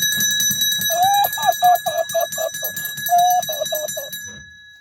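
A small hand bell rings in quick repeated strokes during a village ritual for Mhasoba, two runs of bright clangs separated by a brief pause, over a steady high-pitched tone.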